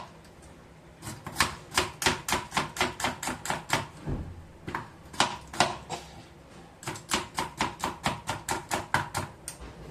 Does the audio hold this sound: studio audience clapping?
no